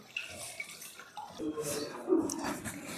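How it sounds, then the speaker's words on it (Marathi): Water runs and trickles through a colander as chopped spinach and coriander are rinsed at a kitchen sink, a soft, close splashing and dripping that is fairly quiet. "याचं खाली ना असं चाळणीवर ना धुवून घ्यायची, म्हणजे खाली पाणी निचरत यायचं"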